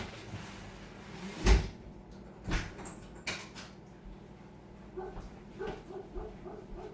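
Indoors on a rainy day, a house dog lets out a few scattered barks and yips while thuds and clicks from a door being opened punctuate the quiet room.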